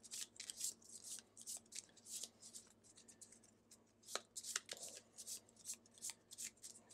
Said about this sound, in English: And now we need to do a good shuffle.